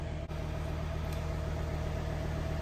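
A 2.0-litre diesel engine in a VW T5 Transporter van idles just under 1,000 RPM, a steady low hum with a constant rumbling drone and a faint click near the start.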